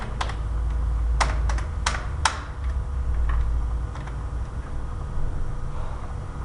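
Prices are being typed into an Excel spreadsheet on a computer keyboard, close-up clusters of quick key taps with louder clicks early on, then lighter scattered keystrokes.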